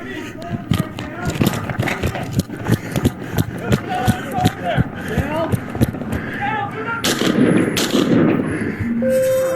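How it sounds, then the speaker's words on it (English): Gunfire during a police officer-involved shooting in Henderson: a rapid string of sharp, close cracks and bangs mixed with loud shouting voices and commotion, getting noisier toward the end. "shots fired"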